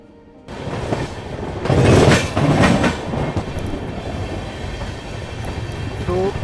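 Kashi Tamil Sangam Express slowing as it passes a station without stopping, with steady rumble and clickety-clack of wheels on rail joints, a louder burst early on, then a continuous moderate rolling noise.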